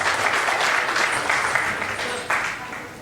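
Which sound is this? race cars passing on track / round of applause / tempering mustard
round of applause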